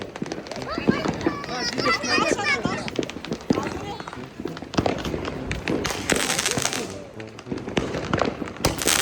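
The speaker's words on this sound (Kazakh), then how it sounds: "Достар, міне біздің салютымыз." New Year fireworks going off in rapid crackling bursts and pops, with whistling rising streaks, loud and continuous alongside excited voices and children talking nearby.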